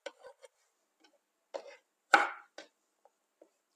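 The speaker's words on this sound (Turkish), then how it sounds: "İçlerini ayıkladım ve bunları da jülyen bir şekilde doğruyorum" Knife chopping washed red capia peppers into julienne strips on a board, a few crisp, irregular taps with one heavier cut, close and clear against silence.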